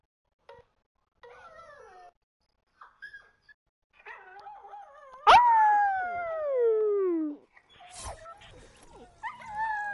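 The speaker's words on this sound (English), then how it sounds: "if you heard that barking, it wasn't me, it was my dog." A pet dog barks and howls indoors, giving short yelps and whimpers before one long sliding howl, then a few more barks; the sounds are close and fairly clear, with quiet gaps between them.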